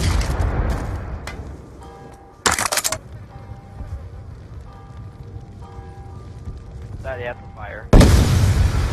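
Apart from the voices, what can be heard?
grenade explosion in Black Ops 2 video game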